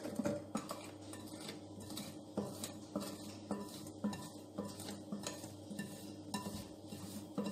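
A spoon stirs cocoa powder into a cake or cookie batter in a bowl, giving steady scraping and clinking of utensil against the bowl, with faint sizzling in the background and no talking.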